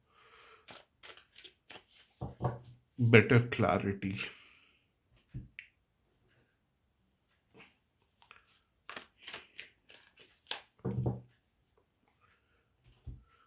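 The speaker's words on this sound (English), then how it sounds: "I want to shuffle them again on the camera" Close-up riffling and snapping of a card deck, a dense burst of shuffling followed by scattered sharp clicks, with a few spoken words.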